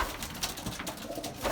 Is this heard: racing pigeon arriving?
yes